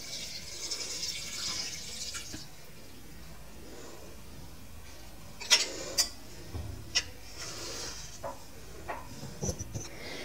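About one and a half glasses of water poured into a cooking pot with onions and mutton for turnip and pea curry, a faint steady splash under kitchen clatter, with a few sharp clinks later.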